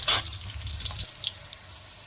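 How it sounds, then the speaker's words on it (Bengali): Cashews and raisins drop into hot ghee mixed with white oil, giving a sharp sizzling burst at the start that quickly settles into a faint, fading crackle. It is brief and close, with no talking. "দিয়ে দিলাম কাজু কিশমিশ, ওরাতে একটু ঘি আর সাদা তেল মিশিয়ে নিয়েছি"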